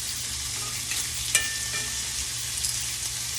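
Shrimp searing in olive oil in a skillet give a steady close sizzle, with a brief clatter as they are flipped partway through and a few small pops after.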